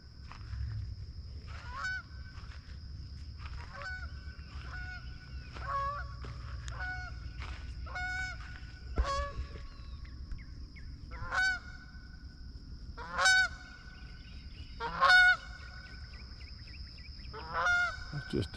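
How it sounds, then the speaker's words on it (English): Geese honk while flying over a Tennessee farm garden, a string of loud nasal calls that rise and fall in bursts across the whole stretch, with steady low outdoor rumble and a faint high insect-like hum behind. "I hear the geese flying over."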